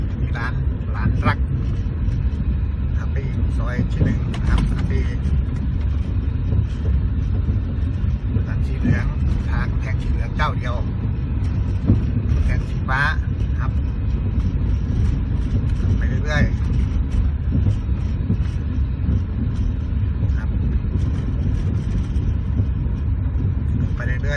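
A car drives slowly along a side street with a steady low engine rumble and wind noise, while someone talks over it throughout.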